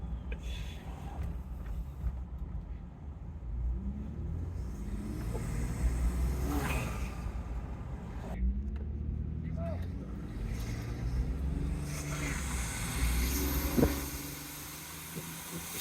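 A Ford F-150 EcoBoost engine with an Injen cold air intake hums at about 1500 rpm from inside the moving truck, a steady low rumble blended with road noise and a faint swelling whoosh, continuous and moderately loud.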